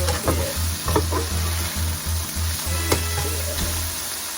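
A chicken quesadilla browns in a hot pan with a constant close sizzle and crackle, a low steady hum underneath and a few sharper pops, with no talking.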